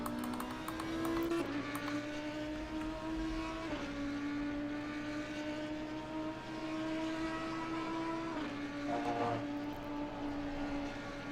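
Ferrari and Aston Martin GT race cars lapping Spa in Assetto Corsa Competizione, engines whining high and climbing through gears with brief shift drops, a fairly faint, steady racing drone with no voices.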